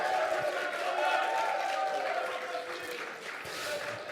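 Crowd at a public debate on the EPR nuclear reactor in Caen, shouting and clapping together in a sustained, dense roar of voices and applause that holds steady throughout.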